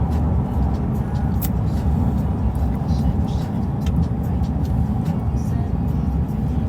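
A car engine idling with a steady low rumble and whir heard from inside the vehicle, with people talking over it throughout.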